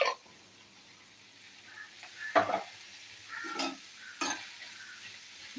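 Homegrown okra stirred in a pan after a single pinch of turmeric goes in: a handful of quiet, scattered scraping strokes with a faint sizzle between them.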